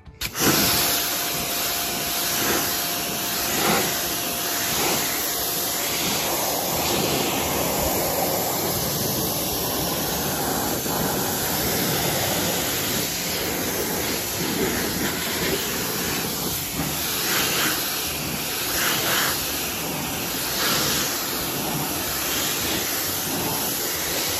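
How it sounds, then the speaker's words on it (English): Water spray rinsing a truck during a hand wash, a steady, loud rushing hiss that holds almost unchanged for the whole stretch, close by and with no talking. "So we're gonna go ahead and rinse it off."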